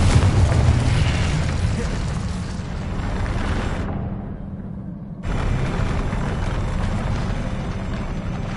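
A Confringo spell explosion sounds in the PS5 game Hogwarts Legacy as a dense, loud rumbling blast. It drops to a muffled lull for about a second, then bursts back strongly, with no speech.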